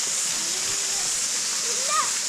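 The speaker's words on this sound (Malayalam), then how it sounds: "വാട്ടർഫാൾസിൽ വാട്ടർ കുറവാണ്." A low-flow waterfall in a New Zealand forest gives a steady, soft hiss of falling water. A few faint chirps rise above it near the end.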